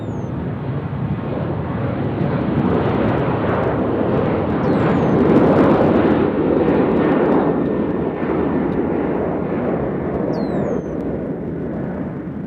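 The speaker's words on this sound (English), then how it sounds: "we got another big Delta headed to Atlanta," A large Delta airliner departs Nashville International Airport bound for Atlanta, its jet engines giving a loud, steady roar that swells slightly mid-pass and holds throughout with no voices.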